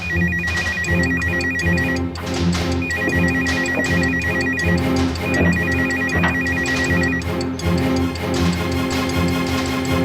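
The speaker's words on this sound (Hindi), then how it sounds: "हाँ, घंटी बज रही है, देखो, जाओ उठा लो।" A telephone ringtone repeats in steady bursts, loud and close, with an electronic melodic pattern cycling several times over ten seconds, sitting over a busy background of dramatic music and room noise.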